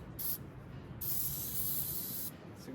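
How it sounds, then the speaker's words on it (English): An aerosol can of engine starting fluid hisses in two spurts into a Craftsman lawn tractor engine, a short burst then a longer steady spray, close by against a quiet background. "All right, some starting engine fluid"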